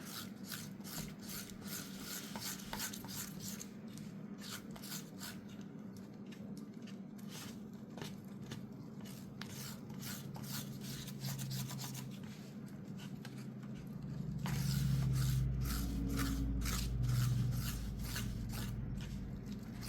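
Paint being stirred and blended in a small container for a lowrider bicycle part, a continuous quiet scraping and rubbing with rapid repeated strokes, close up, growing a bit louder and smoother near the end.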